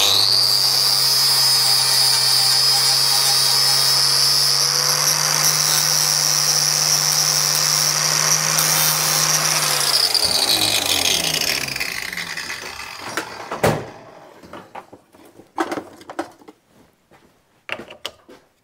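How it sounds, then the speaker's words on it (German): An angle grinder whines at a high, steady pitch as it grinds metal tabs off a part, loud and close for about ten seconds, then spins down, followed by scattered clanks and handling knocks. "Ich glaube, die schleife ich runter."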